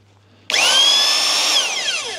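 A Vevor magnetic drill starts up abruptly after a quiet moment and runs loud and close with a high, whining motor tone that holds steady before beginning to wind down.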